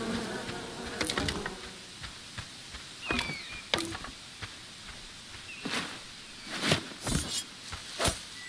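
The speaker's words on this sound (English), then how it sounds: "Bees!" Bees buzz in the island survival game Len's Island, with close whirring passes mixed with scattered clicks and rustles and intermittent louder bursts, and no talking.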